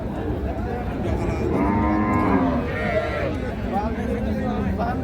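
Cows lowing at a busy cattle market, several long moos close by over a constant crowd of talking voices.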